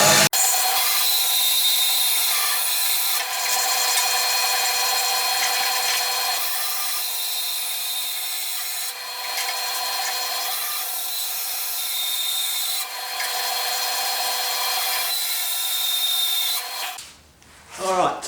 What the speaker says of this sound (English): I'm using a bandsaw because I've got one.